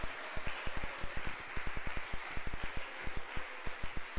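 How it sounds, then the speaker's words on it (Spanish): Church congregation at a Pentecostal service in Medellín clapping in a fast, steady rhythmic beat, loud and close, with crisp regular claps filling the whole stretch. "Denle un aplauso."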